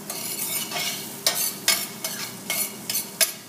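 Bacon rendering in a pan gives off a crackling sizzle, and bursts of stirring come roughly every half second toward the end. Close and fairly loud, with no voices.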